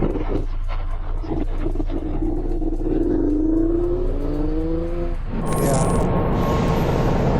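A two-stroke motorcycle engine revs and climbs in pitch up close, then drops away as a steadier roar with traffic noise takes over near the end.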